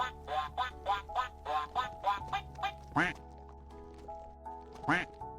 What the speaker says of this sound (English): That duck song is so familiar